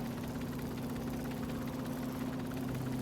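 A throttled-down engine in the game Stormworks hums at low revs as a steady, droning idle with a constant low rumble and no breaks or speech.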